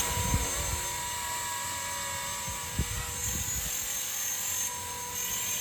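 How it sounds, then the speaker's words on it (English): The tail motor of a Blade Revolution 235 CP RC helicopter whines steadily at a high pitch with a constant buzzing drone, close and continuous, with faint low thumps underneath. "That tail motor is kind of loud, I'll be honest."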